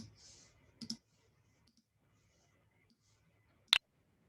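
Computer mouse clicks sound as a quick double click and, a few seconds later, a single sharp click, close and crisp against near silence.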